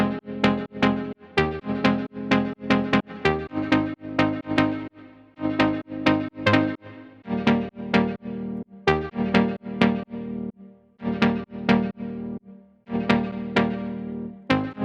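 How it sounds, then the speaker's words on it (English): Filtered saw-wave synth chords play a steady progression, with rhythmic plucked stabs repeating in a bouncy pattern and sustained low harmonics beneath, clear and upfront with no voices. "I've added this chord progression which plays underneath."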